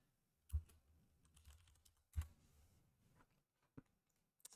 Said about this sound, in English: I'm just typing in the chat.